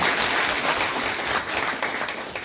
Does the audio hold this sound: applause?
yes